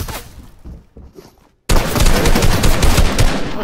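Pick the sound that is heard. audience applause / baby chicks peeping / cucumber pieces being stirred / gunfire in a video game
gunfire in a video game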